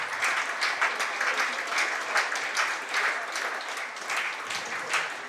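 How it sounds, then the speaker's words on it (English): Applause from a county cricket crowd at Northamptonshire v Surrey ripples in uneven bursts of clapping from a modest crowd, fairly near, with no talk over it. "I'll shut up while you listen to the applause, well-deserved applause for Jamie Smith"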